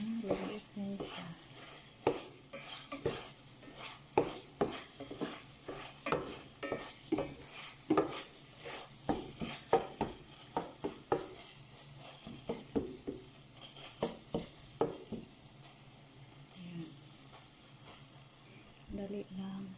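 Ground meat sizzles in a pan while being stirred, with a steady frying hiss and regular scraping and tapping of a utensil against the pan throughout; a voice is faintly present now and then.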